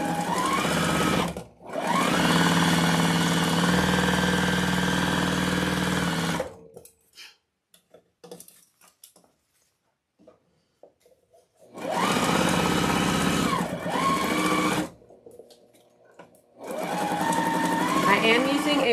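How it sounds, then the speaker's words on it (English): A sewing machine runs a straight stitch around a fabric wreath in long bursts of fast, buzzing mechanical stitching, stopping for several quiet seconds before resuming twice. "we're just going to sew the entire thing with a straight stitch all the way around."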